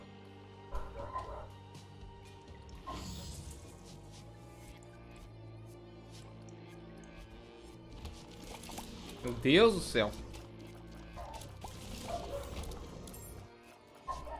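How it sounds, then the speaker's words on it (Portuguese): Dogs bark outdoors in short, distant bursts scattered across the stretch, with one louder cluster midway, while a person indoors speaks briefly. "Tá os cachorros latindo de novo."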